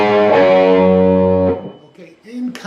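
Distorted electric guitar plays a riff through effects, a sustained harmonic-rich note run for about a second and a half, loud and close, then breaking into quieter fragments.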